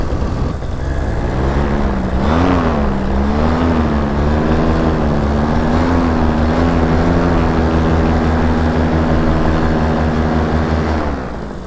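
A Vitorazzi Moster 185 gas engine on a model aircraft runs steadily at a slightly high idle, a loud, buzzing drone that holds a constant pitch with a brief waver near the start.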